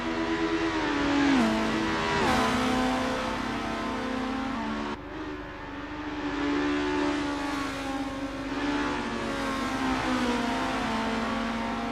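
A Formula-style race car engine in Assetto Corsa at the Kyalami circuit roars continuously and loudly, pitch climbing and dropping with gear changes and revving, with no talk over it.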